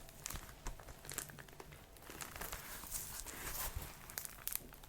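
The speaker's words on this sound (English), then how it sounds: "or like rustling sounds like this." Close, crisp crinkly rustling comes in irregular bursts, like material being handled and scrunched near the ear, soft overall with sharper crackles.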